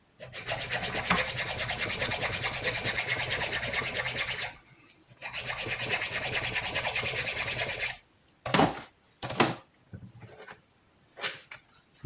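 Square file rasping by hand on a chainsaw-based cultivator part, cutting grooves, with two long steady stretches of rhythmic back-and-forth strokes, then a few shorter scattered strokes, close and clear.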